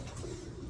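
A racing pigeon in a loft gives a short, low, soft coo, close by and brief, with no talk over it.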